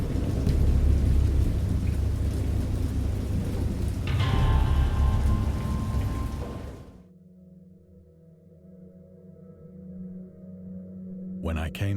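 A thunderstorm with heavy rain and deep rumbling thunder roars loudly for several seconds, then drops away abruptly to a low hum and a faint returning rumble.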